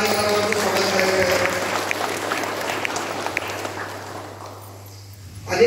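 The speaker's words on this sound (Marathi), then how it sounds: "सर्वांनी जोरदार टाळीचा कडकडाट" Audience at an award ceremony applauding loudly, a dense, sustained clatter of clapping that fills most of the stretch before thinning and fading near the end, with a steady low hum underneath.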